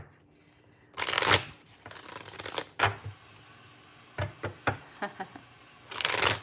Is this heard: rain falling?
no